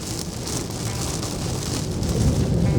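Steady rain falling on surfaces, a dense, even wash of patter with scattered heavier drops, loud and close, with no voices.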